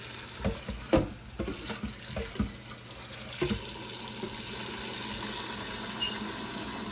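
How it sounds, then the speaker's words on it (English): Water runs from a sink faucet into a stockpot, starting with a few clanks and splashes, then settling into a steady, even rush. "I'm going to put it in here in the sink and we're going to fill it up with water."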